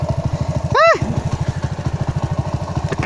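A Suzuki Raider 150 FI motorcycle with an aftermarket ECU chugs in a rapid, pulsing idle, then gives one sharp rising-and-falling rev blip before settling back into the loud, close, throbbing idle.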